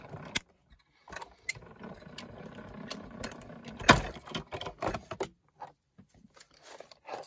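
A manual die-cutting machine, the Toga, presses card plates: faint scattered clicks and knocks, then a sharp louder clack and a run of soft rattling mechanical taps, close up and without talk.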